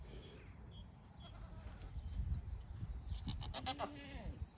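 Farm goats bleat a few times toward the end, faint and somewhat distant, over a low outdoor rumble with soft murmuring in the background.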